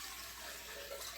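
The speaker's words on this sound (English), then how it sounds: "I will add water into the blender" Water runs steadily from a tap, a soft, even stream filling a blender for Tex-Mex Spanish rice, close by and alone, without anyone talking.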